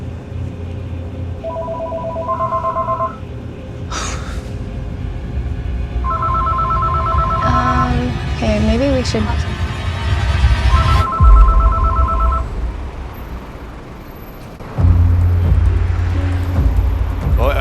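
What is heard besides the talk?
telephone ringing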